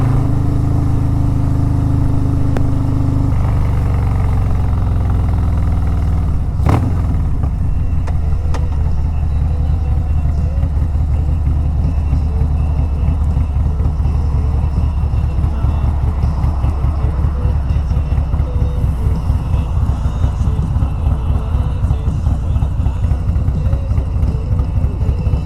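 A Harley-Davidson Road Glide motorcycle rumbles steadily while riding on a cool morning, a loud, continuous low engine drone with a brief sharp transient early on, no talking heard.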